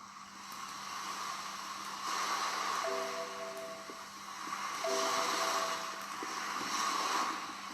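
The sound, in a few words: ocean waves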